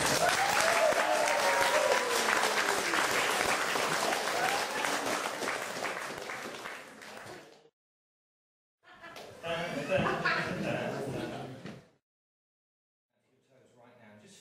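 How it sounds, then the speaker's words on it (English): Audience applause at a stage show as a volunteer walks off, a loud sustained burst of crowd clapping that cuts off, then a second shorter round, then a faint restart. "people will spontaneously clap just for you"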